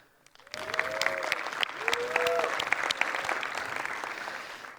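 Conference audience breaks into applause after a brief quiet start, dense clapping holding steady for several seconds, with a short whistle-like tone rising through it twice.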